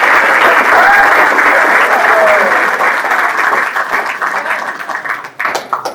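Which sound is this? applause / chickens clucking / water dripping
applause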